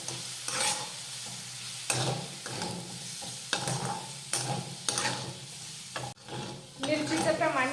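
Green chillies sauté in a pan with a light sizzle under repeated spatula scrapes and stirs, coming in rhythmic strokes every second or so, close and fairly quiet.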